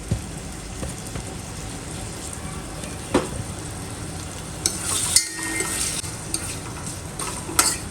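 Prawns sizzle and fry in a pan with ground masala paste for a Goan prawn curry, a steady close crackle with occasional stirring scrapes and clinks.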